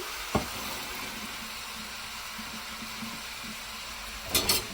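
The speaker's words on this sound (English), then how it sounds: "We're going to drain them." Cooked chow mein noodles are drained, giving a steady, soft rushing of water, with a brief clatter at the start and a couple of sharper knocks near the end.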